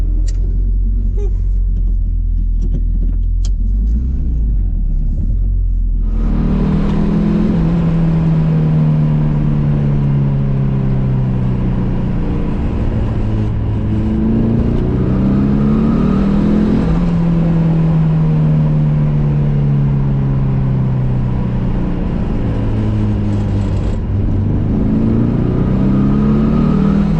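A freshly built stroked, high-compression turbocharged car engine rumbles at low idle, then opens up loud and close, its pitch rising and falling in repeated acceleration pulls through the gears.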